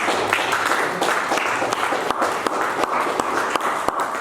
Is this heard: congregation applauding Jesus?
yes